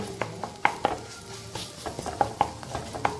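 A spoon stirs and scrapes egg ghotala gravy masala as it roasts in oil in a pan. Irregular metallic taps and clinks sound close over a faint sizzle.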